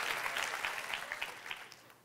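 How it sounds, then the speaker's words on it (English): An audience in a church claps its hands in brief, soft applause, a short patter of many hands heard from a distance that fades after about two seconds. "You almost should give me a hand clap for remembering all those right there."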